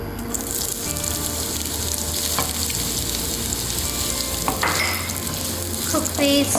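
Chopped onions dropped into hot oil with popping fenugreek seeds for Hyderabadi bagara baingan, giving a loud, continuous close sizzle with faint stirring scrapes and no voices.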